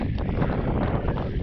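Wind gusts across open water while kayak fishing, a dense, steady roar of buffeting air on the microphone with no clear voices.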